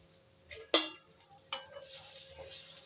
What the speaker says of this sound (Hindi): तो इसे अब मैं निकाल ले रही हूँ एक मिक्सी जार में।